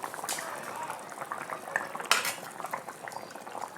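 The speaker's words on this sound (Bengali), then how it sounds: "পেঁপেগুলো সেদ্ধ হয়ে গেছে একদম সুন্দরভাবে।" Papaya pieces bubble in a pot of water on the stove, a soft steady simmer with light clinks of a metal utensil against the pot and one sharper knock midway.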